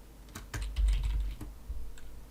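Keyboard typing on a computer, with several quick, close key clicks and a heavier press like the Enter key, no speech.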